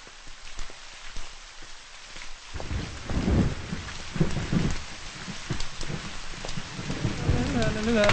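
Heavy rain pours in a city street during a film scene, a dense steady hiss of drops on the ground that swells after a quieter start, with low rumbling underneath and a voice briefly heard near the end.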